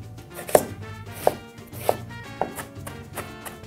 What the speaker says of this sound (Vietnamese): Và hành tây mình có thể thái hạt lựu nhỏ.